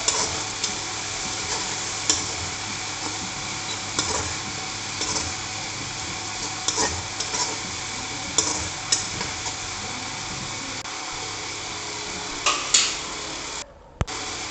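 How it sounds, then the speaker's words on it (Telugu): Garam masala powder is stirred into a hot, sizzling pan, with a constant frying hiss under regular scraping and tapping of a spoon against the pan, close and fairly loud, and no talking. "గరం మసాలా పౌడర్ వేసాక ఇంకొకసారి మొత్తం అంతా కలుపుకోవాలండి"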